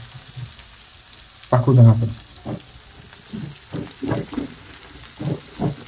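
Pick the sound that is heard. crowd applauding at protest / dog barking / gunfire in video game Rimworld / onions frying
onions frying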